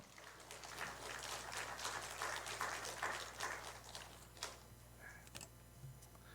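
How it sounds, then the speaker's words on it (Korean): Steady applause from a church congregation welcoming a missionary, a dense patter of clapping that thins out toward the end. "우리 환영하는 마음으로 큰 박수로 환영하도록 하겠습니다"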